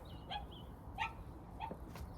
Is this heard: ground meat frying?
no